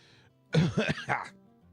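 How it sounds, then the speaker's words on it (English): A person coughs and clears their throat in a short burst of three harsh, phlegmy rasps, close and loud, with soft background music before and after. "Bad time to have to cough."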